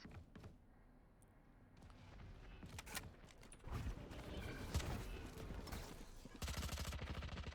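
Gunfire in a Valorant esports match, including an Operator sniper rifle shot, heard as a string of sharp cracks and rapid bursts amid game effects and a muffled crowd-like background.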